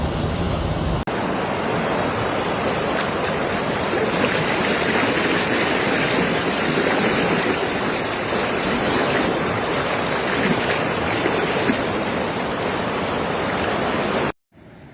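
Floodwater rushing near a restaurant during severe floods in Limpopo, South Africa, a loud, unbroken roaring wash of water that fills the whole span before cutting off abruptly at the end.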